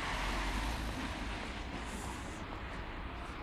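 A car passing on a street in Versailles, heard as a broad, steady rush of road and engine noise that fades slightly as it moves off, close and fairly loud, with no voices.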